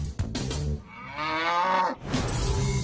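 Cattle moo in a long, drawn-out low call, loud and close, with shorter lowing sounds before and after it and no talking.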